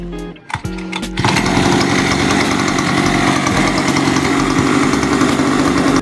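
A 49cc two-stroke stand-up scooter engine sputters briefly, then catches and runs steadily at a loud, buzzing idle close by, no voices over it.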